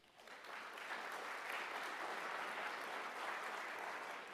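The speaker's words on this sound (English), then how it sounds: "give yourself a round of applause" Employee meeting audience applauding together, a steady, full wash of many hands clapping that swells in quickly and holds evenly for a few seconds without voices.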